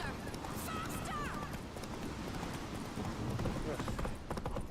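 In The Witcher 3, the horse Roach gallops with a rapid, continuous rhythm of hoof clip-clops under game music and effects. A voice speaks over the hoofbeats.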